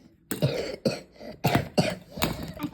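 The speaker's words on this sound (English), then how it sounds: "And I'm having the cough." A cartoon character gives a series of about five short, hoarse coughs and throat-clearing bursts in an uneven rhythm, close and clear.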